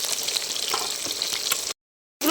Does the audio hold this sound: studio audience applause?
no